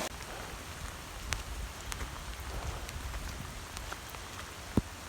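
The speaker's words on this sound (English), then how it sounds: "It's raining harder than it should be." Heavy rain falling steadily on a rural property with flooded pastures, a dense continuous hiss of drops with scattered sharper taps and one louder splat near the end.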